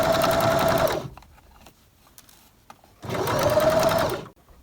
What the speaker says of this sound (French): je commence à piquer en faisant une marche arrière et je repars pour piquer sur toute la longueur